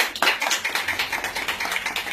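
Audience applause, a steady patter of many hands clapping at a family gathering, heard at moderate distance and fairly quiet, with no talk over it.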